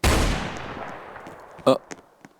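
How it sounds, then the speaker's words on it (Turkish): Gunfire in the Roblox video game: a loud burst opens the clip and fades, followed by a few sharper, separate shots later on, with faint voices in the background. "silah sıkıyorlar aşkolar"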